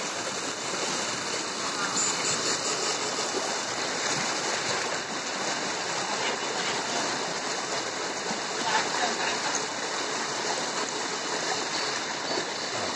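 Rushing stream water pours steadily and loudly as the flow suddenly rises, a dense continuous roar with no break and faint talk mixed in.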